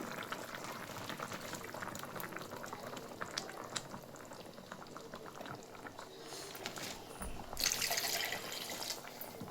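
Chicken sambar curry boils in a pot, a steady close bubbling and churning that runs throughout, with a brief brighter hiss near the end and no talking.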